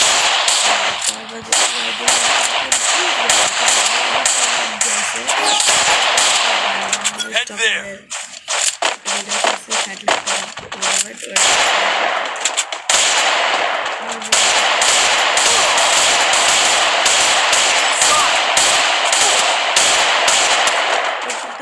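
Rapid gunfire from a shooting video game rattles in dense, loud bursts nearly nonstop, broken by a brief lull near the middle, with game sounds layered throughout.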